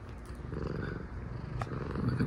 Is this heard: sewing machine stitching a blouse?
no